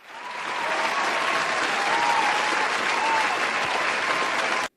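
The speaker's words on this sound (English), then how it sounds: "Round of applause." An online audience gives a round of applause for recent donations, a dense, steady burst of clapping that swells quickly, holds for several seconds and cuts off abruptly.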